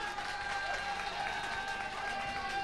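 Audience at a pub contest applauding for a competitor, sustained dense clapping from a crowd at steady loudness throughout.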